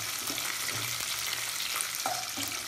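Chopped tomato sizzling in a pan with sautéed onion and garlic for a dried Bombay duck and field bean vegetable, a steady broadband frying hiss throughout with a few soft stirring knocks, close and moderately loud, no voices.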